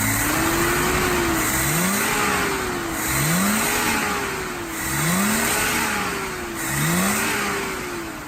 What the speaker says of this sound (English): Again, rev it up again.